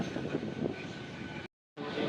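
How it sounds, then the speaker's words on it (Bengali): Local train pulling out of Talandu station at dawn, a steady rolling rumble and rattle of rail cars throughout, briefly cut off mid-clip, with no talk. "ঠিক ভোর পাঁচটা নয় মিনিটে এই ট্রেন তালান্নু স্টেশন ছাড়ল"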